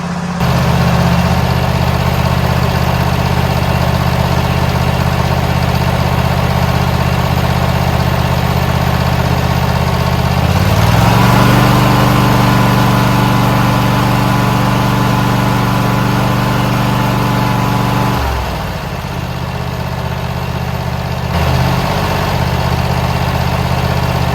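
A Husqvarna zero-turn mower engine runs steadily up close for the whole stretch, its pitch and loudness rising when throttled up partway through, then settling back to a lower idle, with no talking.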